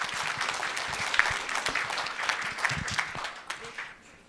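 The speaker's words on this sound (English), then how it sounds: "another round of applause for you all for showing up" Audience at a cannabis industry and policy summit in Wisconsin applauding, a full, even crowd clapping at moderate distance that fades slightly toward the end.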